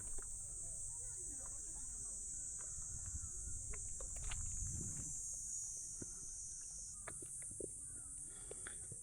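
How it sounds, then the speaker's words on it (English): Cicadas at sunset near a bridge keep up a loud, steady high-pitched drone through the whole stretch, with soft footsteps, low rumbling and faint voices underneath. "Can you guys hear the cicadas in the background?"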